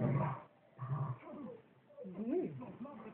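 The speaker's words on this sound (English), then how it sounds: "the dog is the most annoying bark in the world" A small dog gives high, yappy barks mixed in with people talking close by.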